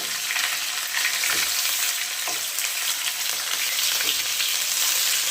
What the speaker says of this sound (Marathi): जिरं आता हे टोमॅटो मी अर्धे कापलेले होते ते यामध्ये फोडते अशा बाजूने